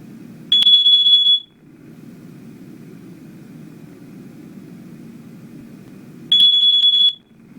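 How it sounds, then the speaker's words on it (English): Carbon monoxide alarm sounding: a loud, piercing electronic burst, then a long quiet gap of several seconds with only low background rumble, then another burst. "While a carbon monoxide alarm has 4 beeps."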